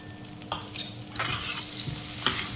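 Asafoetida, green chili and ginger hit hot oil in a pan for pav bhaji, a brief crackling sizzle punctuated by a few sharp clanks of a spoon stirring against the metal.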